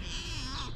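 A short, drawn-out meow from a cat, close and fairly loud, lasting under a second.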